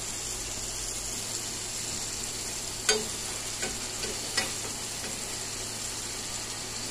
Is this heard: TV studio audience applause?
no